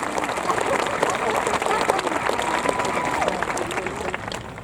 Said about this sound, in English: Can we get a round of applause for all of the parents?